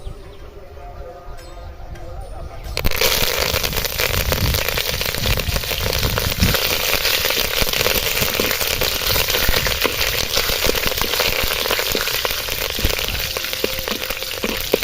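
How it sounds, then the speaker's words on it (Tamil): Mustard seeds and curry leaves spluttering in hot oil for a dried-fish curry, a sudden loud burst of dense crackling that starts a few seconds in and keeps sputtering steadily and close throughout. "கருவேப்பிலை பொரிஞ்சிருச்சு"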